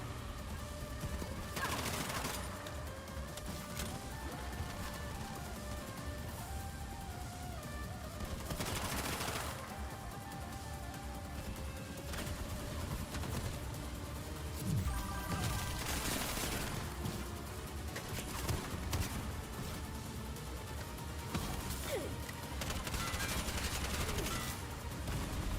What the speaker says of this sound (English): electrical shots.